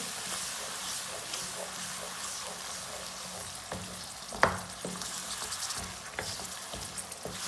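Potatoes and peas sizzle steadily as they fry in a pan in a village-style kitchen, a continuous crackling hiss broken by a few sharp clicks and knocks of stirring, close and moderately loud.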